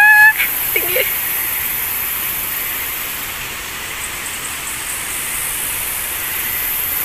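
Waterfalls in a forest give off a constant, moderately loud rush of water that holds steady the whole time, with a brief bird-like chirp and a short voice at the start.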